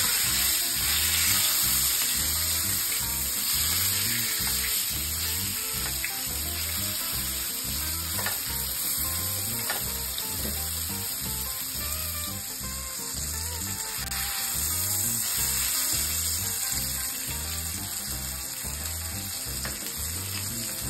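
Goat steak sizzles steadily in a pan over a low flame, a continuous close frying hiss with faint crackles and no voices throughout.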